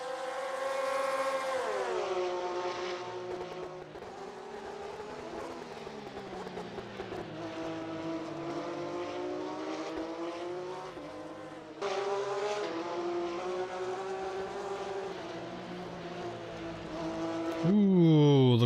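A Porsche race car laps the Indianapolis track in a racing game, its engine a sustained, loud whine that climbs and drops through gear shifts, with a sharp rise near the end and a voice talking over it.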